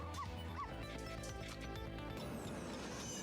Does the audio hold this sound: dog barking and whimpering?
yes